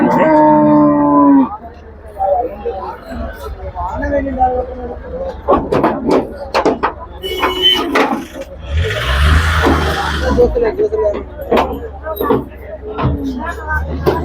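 Heavy HF cows at the Sardar Nagar cattle market give loud, drawn-out moos, one deep bellow rising clearly near the middle, amid ongoing talk and crowd noise.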